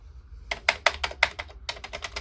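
Keys pressed on the keyboard of a Mimic Spartan Apple II clone for the Commodore 64, a string of sharp clacking taps in irregular clusters, close and alone.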